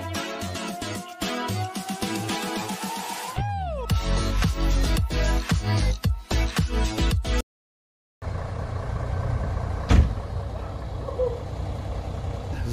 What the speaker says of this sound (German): sind wir jetzt hier in dem Fahrschulbus Europa. Das ist ein MAN.